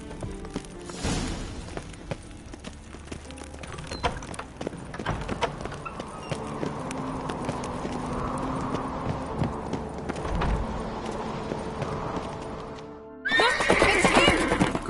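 Horses in The Witcher 3 game clop along with steady hoofbeats and let out loud neighs and whinnies, set against game music and effects, ending in a sudden louder burst of action.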